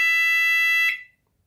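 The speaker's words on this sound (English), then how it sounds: "Got the key fob here, and I've recorded the bell," A wireless doorbell chime, replayed over 433 MHz by a Raspberry Pi running RPiTX, rings as one steady electronic tone that cuts off abruptly and leaves silence, loud and close with no voices.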